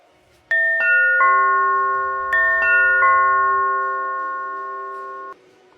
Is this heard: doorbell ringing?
yes